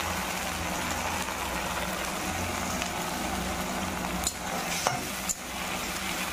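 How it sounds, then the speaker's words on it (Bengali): A ginger, garlic and dry red chilli paste hits hot oil in a wok for Bengali-style chicken, giving a loud continuous sizzle with stirring scrapes and a few sharp utensil clanks near the end. "আদা রসুন আর শুকনো লঙ্কার যে পেস্টটা করেছিলাম এবার আমি কড়াইতে সেটা দিয়ে দিলাম।"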